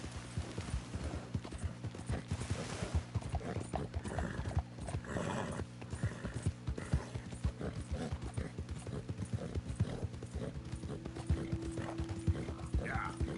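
Horse hooves clip-clopping in Red Dead Redemption 2, a steady trotting rhythm with occasional neighs, mixed with mechanical clicking and a low musical drone throughout.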